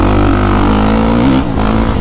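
A 2023 Kawasaki KX450SR 450 dirt bike engine drones loudly and steadily close by, the pitch holding nearly level with a slight dip near the end rather than a sharp rev.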